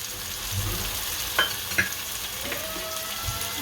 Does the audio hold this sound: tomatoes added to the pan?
yes